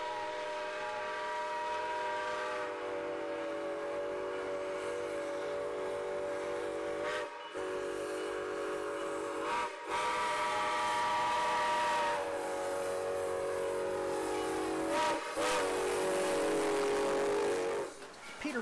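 A steam locomotive sounds its whistle in long, loud sustained blasts with a few brief breaks, the chime-like tone strong over the rumble of the moving train.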